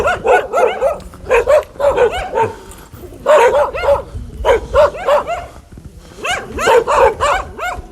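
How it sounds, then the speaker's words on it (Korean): Several dogs bark repeatedly in loud, close bursts beside rural farmland near Seongsan, Jeju, with short yips between volleys and a few brief pauses. "짖는 개는 물지 않는다고 하는데 너무 짖네요 이 녀석들이"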